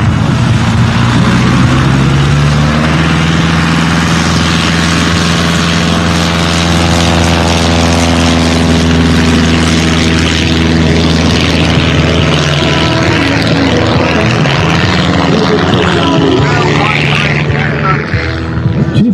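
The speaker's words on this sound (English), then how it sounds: "This is Lynn Gardner on her second and last takeoff." A Super Cub light airplane taking off at a short-field fly-in contest, its propeller engine loud and close with a steady drone that shifts pitch and slowly fades toward the end, with a voice talking over it.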